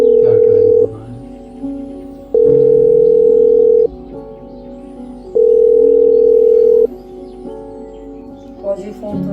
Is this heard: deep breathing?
no